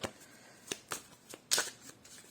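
Tarot cards being shuffled and drawn during a reading, a handful of sharp papery flicks and slaps at irregular intervals, close and fairly quiet.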